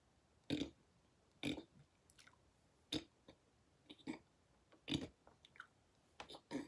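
A person chews candy close up, with wet, smacking bites coming in irregular bursts roughly every second against a quiet background.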